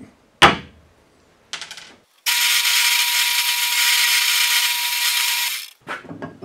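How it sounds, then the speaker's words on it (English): A power drill bores dowel holes into a wooden joint for a Scrabble rack: a sharp knock and brief scrape come first, then a loud, steady drilling whine for about three seconds that stops abruptly, followed by faint handling clatter. "I'm going to drill some holes and put dowels in to really cement that joint"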